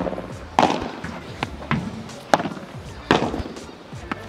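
Padel ball striking a Puma Solar Attack 2023 padel racket, several sharp, low-pitched impacts at irregular intervals, each a punchy thud with a brief rattle, heard alone with no talking.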